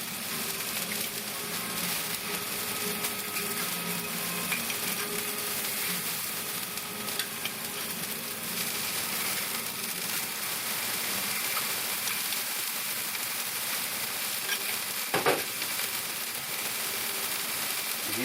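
Food sizzles steadily on a Power Smokeless Grill as sauce is spooned over it, a continuous close frying hiss with a brief sharper crackle near the end.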